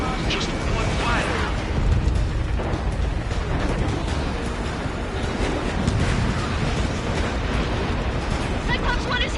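A missile strikes the player's aircraft in Ace Combat 7 during an A-10 run, heard as a dense, roaring rumble of explosion and engine noise that stays loud for the whole stretch, with radio chatter underneath.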